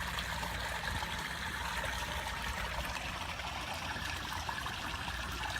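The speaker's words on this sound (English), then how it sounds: "The first overflow goes into a 100-gallon water trough, and this fills into the pond." Water from a koi pond filter overflow fills a 100-gallon trough and trickles into an outdoor koi pond, making a faint, steady, continuous trickle with no voices.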